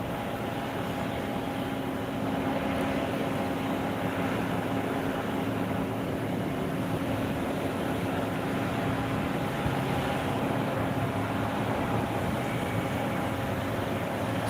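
An aircraft approaching Phuket International Airport in the evening, a steady distant jet rumble with a low engine drone holding even throughout, no voices.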